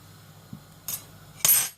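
A metal knife scrapes and clinks against a small fried-dough katori, giving a soft tap and then two short bright scraping strokes, the last one louder and longer, close by with no talking.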